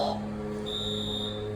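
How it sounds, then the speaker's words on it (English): The floor-4 chime of a ThyssenKrupp elevator, which sounds like a fire alarm, gives a brief buzzing tone at the start and then a sustained high electronic tone over the steady hum of the elevator motor. "That's a fire alarm."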